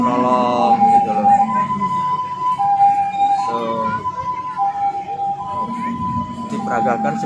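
An ambulance siren at a disaster-response simulation wails in a loud two-tone pattern, alternating pitch every second or so, with voices and crowd noise underneath.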